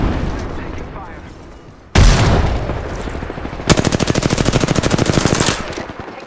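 Weapons fire in Apex Legends Season 16: a heavy shot cuts in, followed by a long rapid burst of automatic fire that is loud and close, with in-game voices calling out over it.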